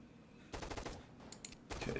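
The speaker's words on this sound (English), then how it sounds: "Using the AK." AK rifle fire in a Roblox horror game, several quick bursts of automatic shots after a short lull, fairly close and loud with no talking.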